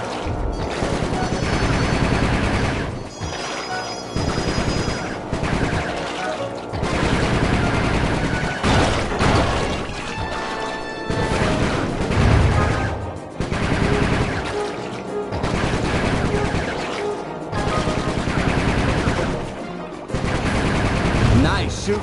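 Gunfire in the video game Sly Cooper 3, with loud, sustained bursts of rapid shots repeating in waves and only short gaps between volleys, filling the scene.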